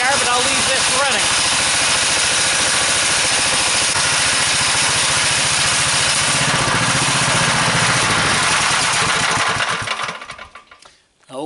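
A DC generator engine idles steadily at close range with a continuous mechanical drone, then sputters and drops away near the end.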